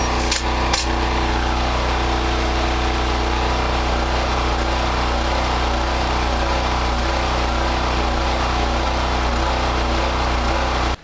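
Engine running steadily with a loud, constant droning hum and a couple of brief knocks at the start, close by and continuous throughout with no talk.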